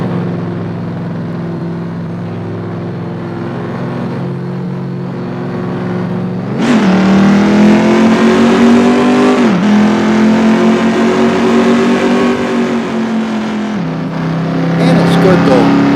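A race car engine accelerating, heard from on board: a loud droning engine note rises sharply in revs, holds high, then drops back and climbs again as the car picks up speed.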